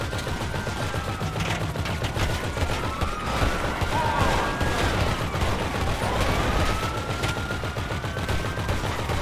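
GTA Online heist gunfire: dense, rapid automatic shots crackle continuously through the whole stretch, mixed with a wailing siren-like tone and other game noise, loud and busy with no clear pauses.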